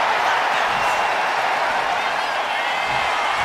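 A WWE 2K25 arena crowd roars steadily as a wrestler plays to the fans, a loud continuous wash of cheering under a commentator's voice.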